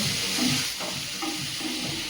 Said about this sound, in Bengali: তো আলুটা ভাজা করে নিচ্ছি আমি